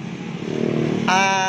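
A Suzuki GSX-R150 Fi motorcycle, sharing its engine with the Raider 150 Fi, runs close by with a steady rough engine note that swells, then jumps into a higher, revving whine near the end.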